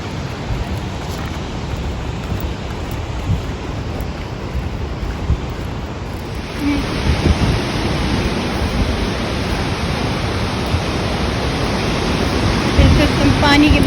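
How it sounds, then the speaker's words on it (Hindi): Steady broadband rushing of a fast-flowing river close by on a mountain track from Fairy Meadows to Raikot, growing louder and fuller partway through, with wind buffeting the microphone. "हम पानी के बिल्कुल साथ साथ चल रहे हैं, पानी के और भी करीब आ गए हैं"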